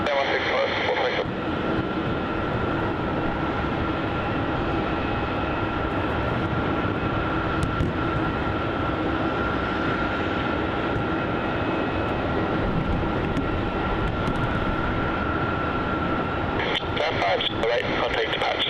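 An Airbus A321-200 airliner landing at Melbourne Airport gives a steady, loud engine roar that holds for the whole stretch, with air traffic control radio voices talking over it.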